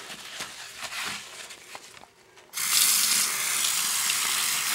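A bathroom sink is scrubbed and rinsed: soft scrubbing and trickling come first, then a tap suddenly opens into a loud, steady, close rush of running water that holds to the end.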